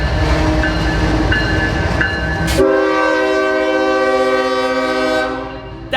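A train rolls by close and loud, its rumbling wagons giving way midway to a long, sustained horn blast that holds steady before fading near the end, with no talking.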